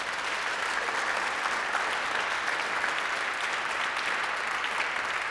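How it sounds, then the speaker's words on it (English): Dense, steady applause from a church concert audience for the Jazz House Kids youth jazz program, many hands clapping together evenly and strongly for the whole stretch, with no break and no voice. "So can we give a big round of applause for Jazz House Kids?"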